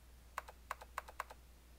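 Computer keyboard typing in the Zero Escape 999 video game: four crisp, evenly spaced key clicks, each with a faint echo, quiet over a low steady hum.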